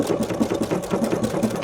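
A sewing machine stitches ribbon onto fabric in a rapid, even chatter of needle strokes, close and clear with no talking over it.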